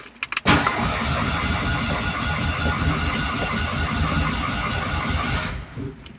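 A Polski Fiat 126p small car engine, choke off, cranks briefly, catches and runs at a steady, loud idle for several seconds before cutting off.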